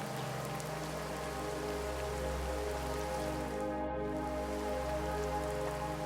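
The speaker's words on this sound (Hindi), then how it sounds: "रामू, अब हम इतनी बारिश में रहने की जगह कैसे ढूंढेंगे?" Steady rain falls continuously as a dense, even hiss with no breaks, moderately loud and alone without voices, only a brief dip near the middle.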